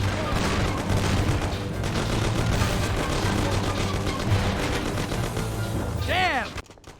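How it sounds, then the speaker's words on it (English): A shootout in the 2002 game Mafia: The City of Lost Heaven erupts in dense, sustained gunfire, rapid overlapping shots filling several seconds at close range before cutting off abruptly, with voices mixed in. "Take cover! What's going on? Jesus, who are they? Fire! Kill the bastards!"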